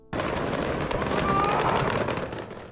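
Fireworks set off by a warehouse fire at the port of Beirut crackle and pop in a dense, continuous roar of rapid bursts, loud and sustained throughout.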